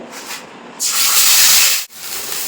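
Spice paste dropped into hot mustard oil in a pan bursts into a loud, close sizzle that holds steady, then briefly cuts and resumes.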